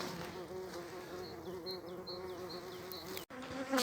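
Honey bees drone steadily inside a hive during winter bee care, a dense continuous hum with a brief handling knock near the end.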